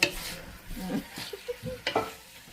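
Garlic sautés in a pan with a soft sizzle, stirring scrapes and a few small pops, all fairly quiet and close.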